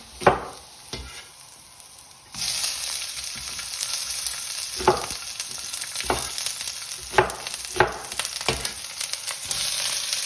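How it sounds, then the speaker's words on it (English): Chicken and cubed onion sizzle in a hot wok, a steady frying hiss that swells louder partway through, broken by scraping stirs of the spatula at intervals. "So I'm going to sizzle this in."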